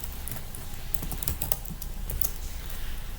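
Rapid typing on a computer keyboard, a steady run of light clicking keystrokes heard close up over a low background hum, with no talking.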